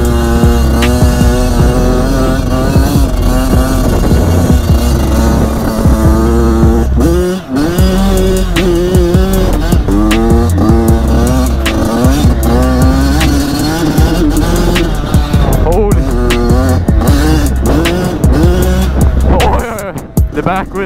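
A Yamaha YZ85 two-stroke motocross bike revs hard and loud nearby, its engine pitch climbing and dropping in repeated bursts as the back wheel spins on motocross tires.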